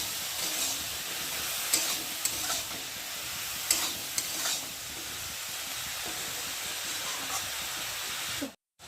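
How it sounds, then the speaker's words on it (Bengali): Water lily stems sautéed with salt, turmeric and cumin powder give a steady broad sizzle and hiss with a few light stirring clicks. The sound runs continuously at a moderate level and cuts off abruptly near the end. "নুন, হলুদ গুঁড়ো আর জিরের গুঁড়ো দিয়ে ভালো করে শাপলাটা একটু কষিয়ে নেব"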